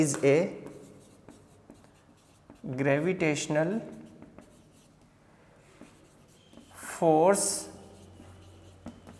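Writing on a board during a physics lesson on gravitational force gives faint scratching strokes, mostly heard in the pauses between bursts of a teacher's nearby speech.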